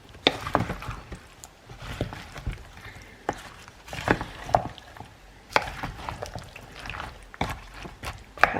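Vegetables are mixed in a pan to coat them, with irregular knocks and scrapes of a spoon against the pan and soft rustling of the food, close and intermittent.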